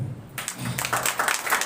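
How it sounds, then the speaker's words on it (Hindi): A congregation at a Christian worship service claps loudly. The applause starts abruptly after a brief quiet moment and continues as a steady, close burst of many hands. "जोरदार ताली बजाइए"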